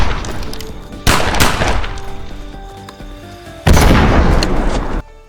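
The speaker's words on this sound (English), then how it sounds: "huge gunshots ring out from inside the mansion" Two huge, booming gunshots go off inside a mansion in a film scene, each a sudden loud blast followed by a long decaying roar, spaced a few seconds apart, with no talking.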